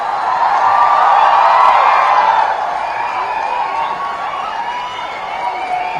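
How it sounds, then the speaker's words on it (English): Parents at a chartered accountants' convocation clap and cheer for the graduates. The crowd noise is loud and sustained, peaks over the first two seconds, then settles into steady applause and shouting. "Parents, you also clap for your children"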